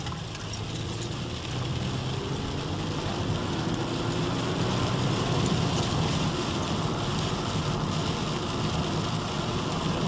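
Steady rain noise while driving through town in a storm, a dense continuous hiss with low road rumble that stays loud and even throughout, with no talking.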